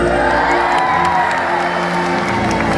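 Stadium crowd at a SeaWorld Orlando orca show cheering and whooping loudly and steadily throughout, a dense roar of many voices with children's shouts mixed in.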